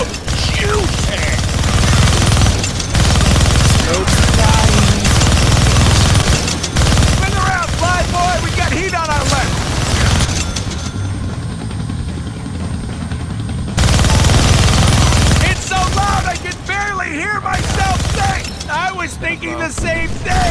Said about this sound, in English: You're gonna need both hands to shoot that minigun.